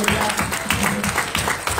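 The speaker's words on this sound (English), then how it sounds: "I'll clap for the Lord." A church congregation claps together in a steady, even rhythm, close and moderately loud for a couple of seconds.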